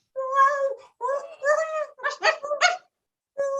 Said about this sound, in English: The dog, whose ears are in the door,